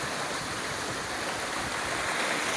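Shallow stream water, only a few inches deep, flows steadily with a constant, close, broadband rush and no voices.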